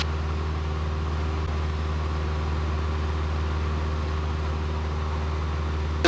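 Steady broadband hiss of an air vent that has been swung round inside a light aircraft cockpit in flight, laid over a constant low engine drone and tonal hum, continuous and close for the whole stretch with no talk.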